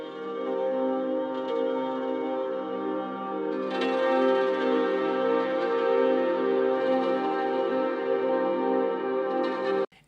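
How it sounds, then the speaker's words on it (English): Evolving ambient drone pad built from processed audio for a future garage style atmosphere, with steady layered tones that swell slightly and hold for about ten seconds before cutting off abruptly. "into evolving atmospheres and drones that sound something like this."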